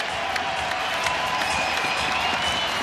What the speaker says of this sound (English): Everyone, stand up and give your applause for Ben Askren.